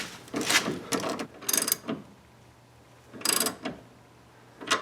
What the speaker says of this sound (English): then we can tighten that up till the bushing starts to bulge out